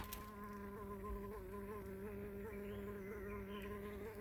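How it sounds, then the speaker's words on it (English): Steady insect buzzing with a droning hum, close by and continuous, no voices. "the bees are already here"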